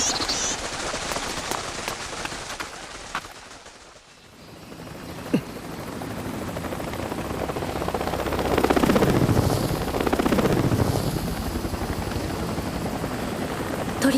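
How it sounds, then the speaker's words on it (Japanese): A helicopter's thudding rotor drone swells and passes nearby, mixed with a steady rushing hiss and a brief lull partway through. "鳥たちヘリの音に驚いたんですね。"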